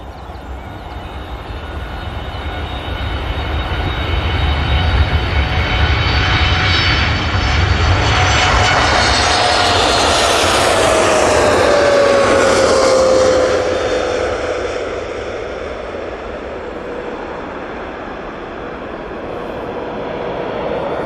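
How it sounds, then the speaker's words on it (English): A TUI airliner makes its take-off roll at Manchester Airport, its engine roar building into a loud, sustained rush with a rising then falling whine as it passes, fading slightly toward the end. "TUI on the roll. Let's say this is off to Ibiza."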